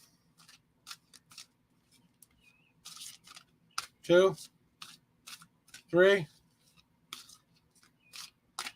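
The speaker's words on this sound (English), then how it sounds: "I'm going to shuffle 7 times for you." A deck of tarot cards is shuffled again and again, with short crisp riffles and snaps spaced between a voice counting aloud.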